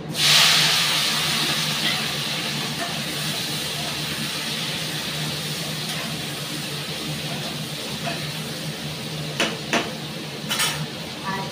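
Thin-sliced potatoes and green chillies hit hot oil in a home kitchen with a sharp initial burst, then settle into a continuous hissing sizzle, with a few faint clinks of utensils near the end.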